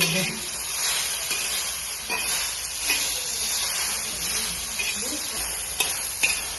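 Okra pieces frying in oil in a pan, giving a steady, close sizzle with faint crackles and occasional stirring scrapes throughout, with no voices.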